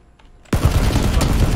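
Rapid automatic gunfire bursts out suddenly in the video game PUBG, a loud sustained fusillade of shots following a brief quiet moment.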